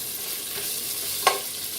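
Bacon pieces fry in a pot for black-eyed peas, giving a steady soft sizzle with one sharp clink of a fork or spoon near the end.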